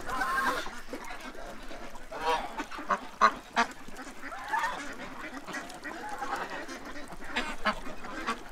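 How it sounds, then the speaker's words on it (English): A small duck quacks close by outdoors in repeated short bursts, with honking goose-like calls and other fowl mixed in; a voice speaks briefly among the calls. "This little duck has been hanging around close all morning."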